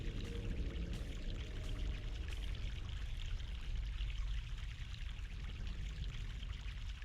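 Fresh mountain water pouring in the video game The Longest Journey, a constant close splashing stream that runs unbroken at an even level throughout.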